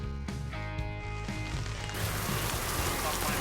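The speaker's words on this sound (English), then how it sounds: "The rain caught us on 15." Steady rain falls on a golf course in a video game, a broad hiss of drops that swells in the second half after brief tonal game sounds at the start, with no voices over it.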